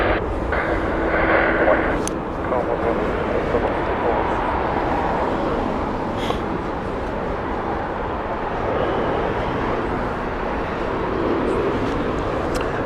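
An airliner on a slow approach into Heathrow Airport makes a continuous, rumbling jet roar at moderate distance, steady and broad, with no clear voices over it.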